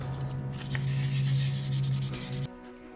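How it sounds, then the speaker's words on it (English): A small solar garden light cell wet-sanded by hand with 2000-grit sandpaper under light pressure: a steady, close rasping rub that runs continuously, then stops abruptly. "you want to use very little pressure and make sure the solar cell and the sandpaper stays wet"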